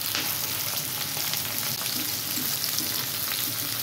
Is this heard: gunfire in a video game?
no